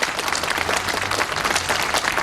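A crowd at a political rally breaks into steady, dense applause, a sustained wash of many hands clapping at close range with no talking over it.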